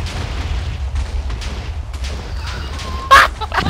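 A low rumble from a video game gives way to a single sharp, loud explosion burst near the end, followed by a brief fading tail.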